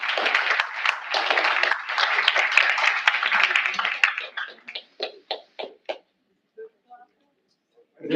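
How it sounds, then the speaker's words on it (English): An audience applauds pitch competition competitors with dense, sustained clapping for about four seconds, then thins to scattered individual claps and falls silent before a voice begins at the end. "Let's give all of our competitors a big round of applause."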